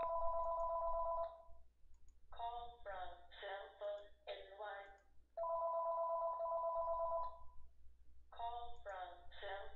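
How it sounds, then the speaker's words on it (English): A telephone rings in a room during a trading talk, its steady electronic trill repeating in about one-second bursts with short pauses between them, loud and close, with no speech over it. "Sorry for the phone here."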